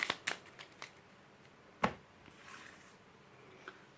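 Lenormand fortune-telling cards riffled and shuffled by hand, a few quick papery flutters and soft slaps, close and quiet with brief pauses between bursts.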